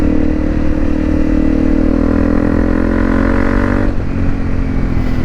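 Honda CRF250 Rally motorcycle engine running steadily after repair, a loud close idle with a rough continuous drone and a slight drop in pitch near the end, with no voices.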